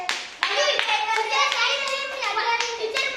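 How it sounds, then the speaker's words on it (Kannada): Schoolchildren clap for their grandmothers in a lively burst of dense, uneven clapping that starts abruptly and carries on, with excited young voices calling out over it. "ಅಜ್ಜಿಯರ್ಗೊಂದು ಚಪ್ಪಾಳೆ ಹೊಡೀರಿಪ್ಪ ಅವ್ರಿಗೆ"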